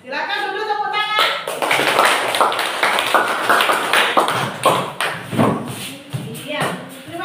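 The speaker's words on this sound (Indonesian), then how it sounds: "Silakan dulu tepuk tangan." Children in a classroom clap together in a sustained burst of applause, loud and close, with broken clapping and some voices mixed in as it tapers off.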